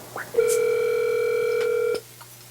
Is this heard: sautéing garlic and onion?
no